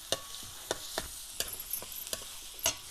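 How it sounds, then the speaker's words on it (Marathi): Onion fries in oil in a pan with a quiet, continuous sizzle, and a spoon scrapes and stirs it in regular sharp strokes about every half second, close by with no talk. "आपला कांदा मस्त परततोय तेलामध्ये"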